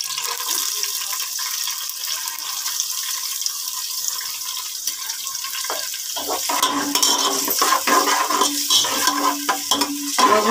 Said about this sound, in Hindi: तो अब हम फ्राई करना शुरू करते हैं अपने प्याज को।